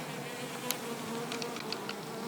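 Honey bees buzz steadily around an open hive during late-summer colony work, a continuous close drone with a few sharper passes of individual bees flying near.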